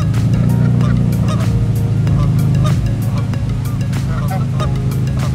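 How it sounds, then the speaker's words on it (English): A flock of geese honks loudly and close by in a car park, their repeated calls overlapping in a dense, continuous din with faint vehicle and background noise mixed in. "I'm in like a standoff with some geese right now"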